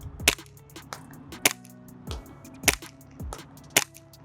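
Tandemkross Cthulu gas blowback airsoft pistol fired outdoors in a light wind, five sharp snapping shots spaced about a second apart, each with a quick crack and short ring, close and loud.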